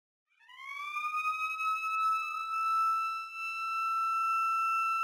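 A loud electronic evacuation alarm horn from a Bosch AMS 6.0 building system swells in and holds a steady, sustained wail with bright harmonics, dipping briefly before continuing unbroken.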